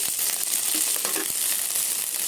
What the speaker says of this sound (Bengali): নেড়ে দিয়ে দেবো। ভালো করে ভেজে নেব লাল করে।